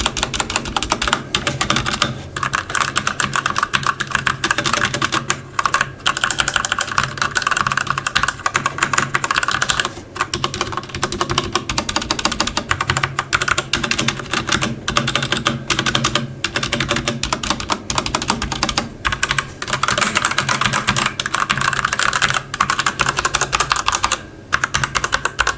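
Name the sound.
typing on 1STPLAYER Firerose MK3 mechanical keyboard, Outemu Red switches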